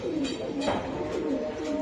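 A racing Giribaz pigeon coos softly in repeated low rolling phrases, faint against a steady background hiss.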